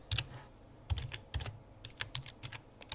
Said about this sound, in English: so I'm typing one-handed at the moment